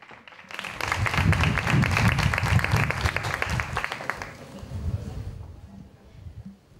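A live audience at a 2020 final gala show breaks into loud, dense applause for about four seconds, the crowd clapping hard before the sound thins out and fades into quieter hall noise.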